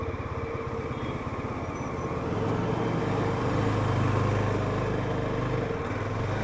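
Jammed mountain road traffic on the way to Sonamarg, cars, trucks and motorcycles idling and creeping along, a continuous near engine rumble that swells slightly midway, no talking.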